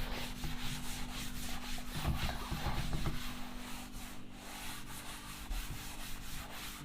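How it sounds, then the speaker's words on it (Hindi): An eraser rubs writing off a board during a chemistry lecture, making a steady, scratchy swishing that runs in back-and-forth strokes for several seconds, fairly close and unaccompanied by talk. "तो देखिए अब हम इसको रब कर रहे हैं क्योंकि मेरे स्पेस नहीं है"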